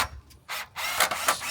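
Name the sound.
screws being driven into a log cabin frame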